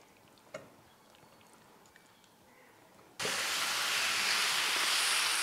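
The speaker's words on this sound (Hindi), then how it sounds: "और इसमें चिकन डाल देंगे" Chicken hits a hot pan while making shawarma filling: after a few seconds of near quiet with a faint clink, a loud, steady broadband sizzle bursts in and continues without letting up.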